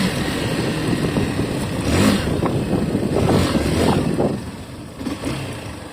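Motorcycle with its stock exhaust and air filter fitted, running close by with a moderate steady engine drone that rises slightly in a couple of gentle revs before easing off.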